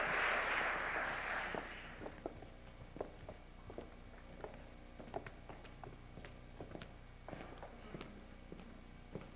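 Applause from an arts and humanities awards ceremony audience after an acceptance speech bursts out at full strength, then quickly dies away, leaving scattered light footsteps and soft knocks in a quiet hall.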